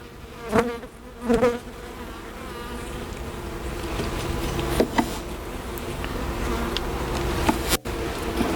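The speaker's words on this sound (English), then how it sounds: "Put all the bees back where they were at." Honeybees buzz close and steadily in a dense swarm around an open hive, with a few louder bumps and thuds breaking through the constant droning hum.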